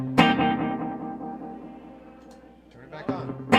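Guitar reverb effect from a pedal switching back on, a loud sustained chord ringing out with a long decaying reverb tail, then a second strum near the end, close and clear.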